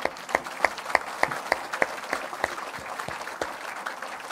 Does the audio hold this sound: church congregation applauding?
yes